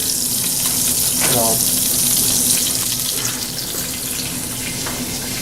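Chicken pieces browning in oil in a pot, a continuous loud sizzle and crackle with a faint wet, bubbling character, steady throughout at close range and no one talking.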